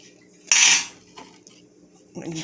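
A spoon clatters and scrapes against a pot as oyster dressing with butter and turkey stock is stirred, one loud clinking burst followed by softer scrapes.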